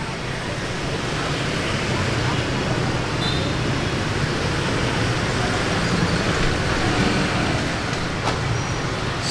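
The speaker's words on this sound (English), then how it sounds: "this school always causes a traffic jam here when it gets out" Dense, steady roadway noise from congested traffic near a school in Vietnam, with engines and vehicles rumbling continuously and close by, a brief brake hiss, under faint background voices.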